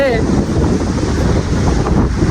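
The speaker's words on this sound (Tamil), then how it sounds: "செம்ம காற்றுங்க, ரொம்ப ஃபோர்ஸாக அடிக்குது காற்று" Strong sea wind blasts loudly and continuously against the microphone by the sea near the Pamban bridge, a roaring rumble that buries any softer sound of the waves.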